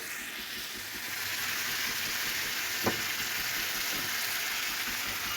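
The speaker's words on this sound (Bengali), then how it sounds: "কষিয়ে নিব" Spiced food sautéing in a pan gives a steady, loud frying hiss throughout, with one brief knock of a utensil midway.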